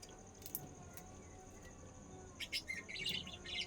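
Pet parrots sitting in their nest give faint, short chirps and tweets, clustered mostly toward the end over a quiet room background.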